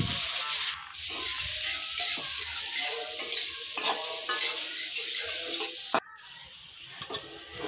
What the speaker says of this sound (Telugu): ఆ తర్వాత కట్ చేసుకున్న వెజిటేబుల్స్, బీన్స్, క్యారెట్, క్యాబేజ్ ఇవన్నీ చాలా చిన్నగా కట్ చేసుకొని వేసుకొని మళ్ళీ కలుపుకోవాలి మంచిగా